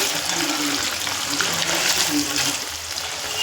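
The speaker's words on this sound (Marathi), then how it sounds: "आता इकडे ना पनीर तळते." Paneer frying in hot oil in a black kadhai gives a steady, close crackling sizzle throughout, with someone speaking softly over it.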